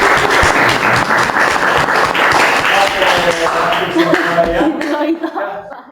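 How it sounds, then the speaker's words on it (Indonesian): Classroom applause during a science lesson, a dense run of many hands clapping close by with a few chuckles mixed in, fading out over the last second. "Kita berikan aplaus untuk kita semua."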